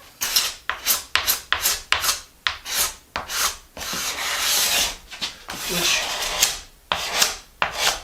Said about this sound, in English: you can hear the scraper there hitting a little bit of glue.